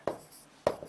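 Writing on a board during a history lecture, two sharp tapping strokes with a faint scratch between them, close and quiet, no speech.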